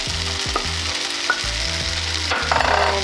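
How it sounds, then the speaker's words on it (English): Rice noodles and tofu stir-fried for vegan pad thai crackle in a hot pan, a loud continuous sizzle punctuated by a few scraping tosses of the spatula. "So now you stir fry for about a few minutes and then you just add some tofu into it."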